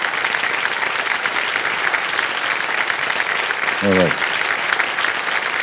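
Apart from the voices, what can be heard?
studio audience applause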